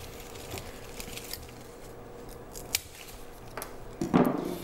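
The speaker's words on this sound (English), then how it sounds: "we're just gonna cut off these yellowing leaves" Scissors snip yellowing leaves and crispy bits off a houseplant, with a few quiet, separate cuts and a sharper, louder snip near the end.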